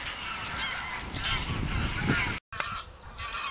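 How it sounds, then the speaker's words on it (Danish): A large flock of geese honks continuously in open spring farmland in southern Funen, a dense, loud chorus of overlapping calls with a brief cut near the end. "Der er endnu flere gæs."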